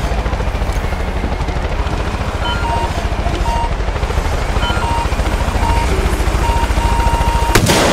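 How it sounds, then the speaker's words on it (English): Helicopter rotor thudding in fast, even pulses, loud and close, with gunfire crackling around it in the video game Far Cry 5; the din holds steady with a sharp burst at the very end. "Oh, I heard some helicopter coming in my way."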